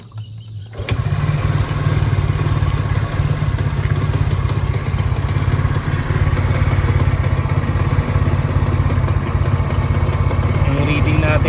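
A Rusi 110 motorcycle engine, being checked for a fullwave stator charging fault, starts after a second and settles into a steady, loud, close idle that runs to the end.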